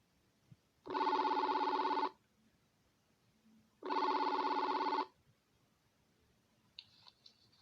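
A telephone bell rings in two long, loud bursts separated by a pause, with quiet room background and a faint click near the end.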